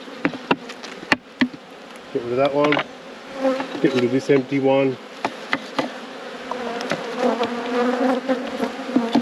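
Honey bees swarm around hive boxes during a robbing event, their close, droning buzz rising and falling as individual bees pass the microphone, along with occasional knocks and someone speaking briefly.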